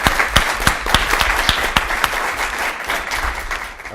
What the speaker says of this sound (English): So can I get a big round of applause for David, Stephanie,